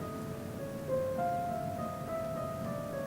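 A slow rendition of Flight of the Bumblebee plays softly, with a few sustained melodic notes gliding between pitches over a faint background hum.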